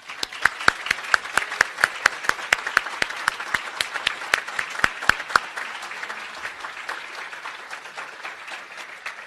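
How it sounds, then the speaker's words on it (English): An audience at a university engineering awards ceremony applauds the graduating seniors: a burst of crisp, steady clapping that is loud at first, then thins and fades toward the end. "And so let's give them one more round of applause."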